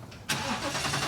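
A car engine cranks briefly and then catches into a steady idle, close and fairly loud, on a vehicle just fitted with a new carbon front plate mount.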